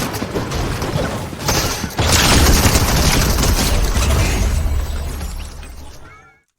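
Gunfire and structures shattering in the Fortnite video game, a sharp burst of shots and breaking builds that grows loud and dense mid-clip before cutting off abruptly.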